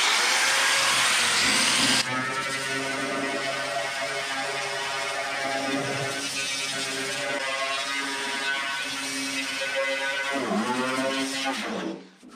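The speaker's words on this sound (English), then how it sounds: "let's grind on this a little bit, see what we got for fresh paint" An angle grinder grinds old paint off the bare body of a Lotus Elan under rebuild, a loud steady high-pitched whine that runs continuously after a brief start and then winds down at the end.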